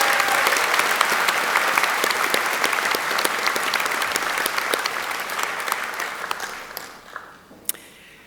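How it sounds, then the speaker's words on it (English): Audience applause at a university graduation ceremony in Auckland, a dense sustained clapping from a large crowd that gradually thins out and dies away near the end. "Could we give another warm round of applause to Sophie?"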